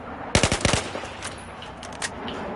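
M416 assault rifle fire in Battlefield 4: a rapid burst of several close, loud shots in quick rhythm, followed by a couple of fainter, more distant shots.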